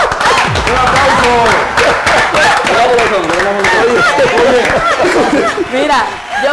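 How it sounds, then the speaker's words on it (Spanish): Applause from a studio audience during a men-versus-women party game on a family TV show, a loud dense clapping mixed with crowd cheers and chatter, sustained throughout. "¡Un aplauso!"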